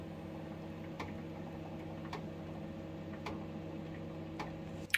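A quiet oven fan hums steadily while sharp ticks sound at regular intervals, roughly one per second, faint and close.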